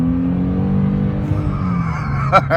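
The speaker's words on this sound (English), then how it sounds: "The V6, it gets up and moves, gives you a nice little, you know, sound from the pipes" A 2011 Mercedes-Benz C300 V6 sedan accelerates hard, a sustained low exhaust rumble rising in pitch, loud and close, with a brief sharp noise at the end.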